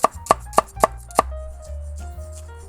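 Five sharp knife chops through half a red onion on a cutting board, cut vertically, evenly spaced and close, followed by quieter board and handling sounds.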